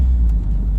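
Deep, continuous roar of a 2002 Toyota MR2 exhaust with a replacement muffler at high RPM, loud and steady through the whole burst with heavy low rumble and no talk.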